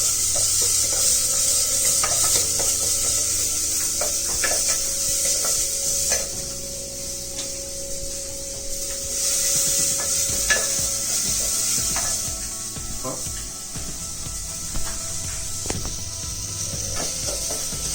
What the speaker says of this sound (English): So on a medium heat, I'm just browning or making it a little bit softer, just sweating the onions